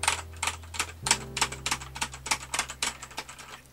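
Rapid typing on an Azio Cascade98 keyboard with cheap keycaps, a steady stream of light, clacky keystrokes at close range, with a low hum underneath and no voices.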